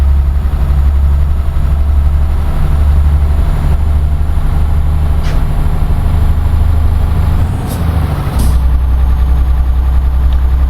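A MAN TGX 480 truck in a driving game idles with a loud, steady low diesel rumble, a brief hiss and dip in the engine note partway through before it settles back.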